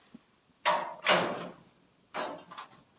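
The door of a 1932 five-window coupe under restoration, with the wood above the door removed, swings with a couple of close, solid thumps and latching clunks in a quiet workshop.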